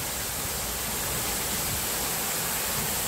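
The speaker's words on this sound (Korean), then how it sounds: "와, 인공 폭포지만" Artificial waterfall at a theme park, a steady, loud rushing wash of falling water that fills the whole clip without pause.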